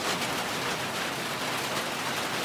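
Dense, steady rain pours down with a constant hiss, no pauses, and no voices.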